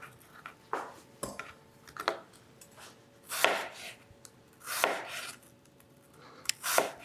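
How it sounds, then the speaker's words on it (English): Apples sliced thin with a knife on a cutting board for a cranberry apple crisp, heard as a series of close, irregular chopping thuds and scrapes with short pauses between cuts. "So just cut them thin. I make them about that thin. Just keep cutting them."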